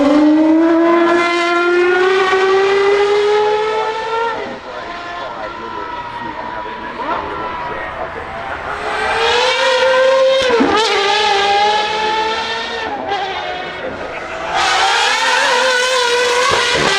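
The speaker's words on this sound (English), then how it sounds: "companies have managed to turn this into a road-going Porsche 935" A road-going Porsche 935 conversion with a 3.8-litre twin-turbo flat six and 700 hp, driven at a festival of speed: a loud engine note rising and falling through several gear changes under continuous commentary.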